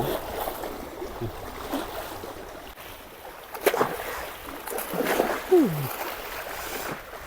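Gentle water waves lapping at the riverside at Kudalasangama, a quiet rushing wash with a few nearby splashes and knocks, no talking.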